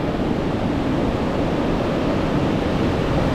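Sea waves at night on a beach the water has nearly swallowed, heard as a constant, dense roar of surf with no distinct breaks, close and fairly loud, without any voices.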